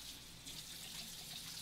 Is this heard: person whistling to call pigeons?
no